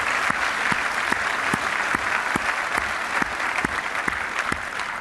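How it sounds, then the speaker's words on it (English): An audience gives Dr. Chu a steady, sustained round of applause, a dense wash of clapping with a few sharper individual claps standing out, holding even throughout. "share some round of applause for Dr. Chu"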